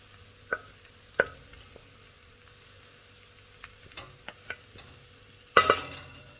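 A spoon stirs braised beef rib with sliced purple onion in a pot, giving sparse light scrapes and clinks, then a louder clatter near the end, all fairly quiet with no talk.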